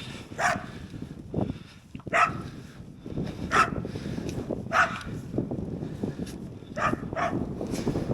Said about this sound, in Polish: bo piesek się podenerwuje jeszcze trochę